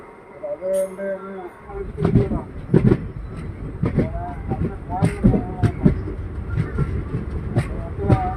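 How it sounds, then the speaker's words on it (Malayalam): A passenger train on the Punalur–Nagercoil run pulls out of Nemom railway station, Kerala, with a tonal horn-like sound at first, then a steady, loud rumble and rhythmic wheel clatter as it gathers pace, with faint voices in the background. "നമ്മുടെ ട്രെയിൻ അങ്ങനെ അപ്പം നേമം റെയിൽവേ സ്റ്റേഷനിൽ നിന്നും പുറപ്പെട്ടിരിക്കുകയാണ്"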